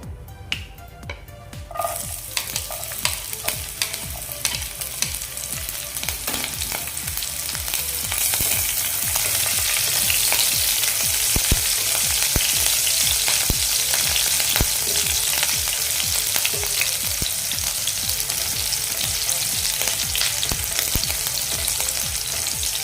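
Green chillies frying in hot oil in a pan: a few faint crackles at first, then a loud, dense sizzle with sharp popping snaps that holds steady to the end.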